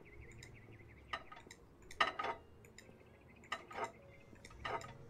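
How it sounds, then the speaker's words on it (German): Plates being taken out in the kebab-shop cooking game Kebab Chefs, giving a few sharp ceramic clinks and clatters spaced over several seconds above a faint hum, moderately quiet and close. "ich nehme erstmal ein paar Teller raus"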